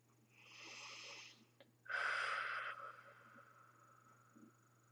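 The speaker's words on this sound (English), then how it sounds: "Deep breaths in through the nose, great long exhales out through the mouth." One person takes a long, audible breath in through the nose, followed by a slow, loud, airy exhale through the mouth during a relaxation exercise, heard close against a low steady hum.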